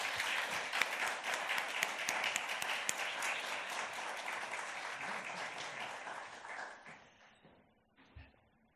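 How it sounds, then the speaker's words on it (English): A room of listeners at a literary symposium reading applauds a reader, with steady, dense clapping that holds for several seconds before tapering off into silence with a last stray clap. "Let's give her a round of applause."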